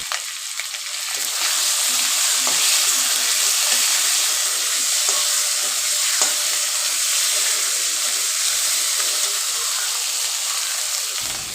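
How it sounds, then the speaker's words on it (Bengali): Spices with potatoes and chili powder fry in a pan for a fig curry, giving a loud, continuous hiss-like sizzle that stays even throughout, with faint scrapes of stirring underneath. "মরিচের গুঁড়া দিয়ে ভালো করে মশলাগুলো কষিয়ে নিব।"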